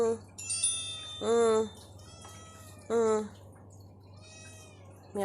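A cat meows repeatedly in drawn-out cries, close and fairly loud, with a person murmuring softly in between.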